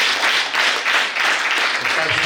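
Church congregation claps in rolling bursts at a gathering, crowd applause swelling and easing in waves, with some voices mixed into the noise.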